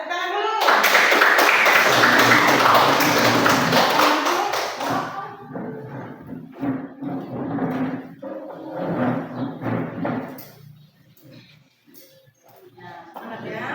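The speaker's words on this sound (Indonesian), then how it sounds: "Ya, kita tepuk tangan dulu." A classroom of students claps hands together for a few seconds, loud and close, then fades into scattered noises and voices talking.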